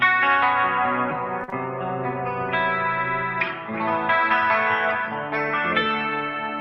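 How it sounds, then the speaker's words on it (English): An electric guitar with a clean session tone drenched in reverb, compression and delay plays sustained chords and melodic notes, shimmering and echoing continuously at a steady, moderate loudness. "Lots of reverb, lots of compression,"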